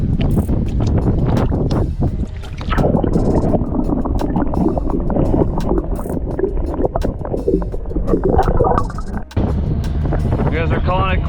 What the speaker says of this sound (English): Can't take the wind anymore.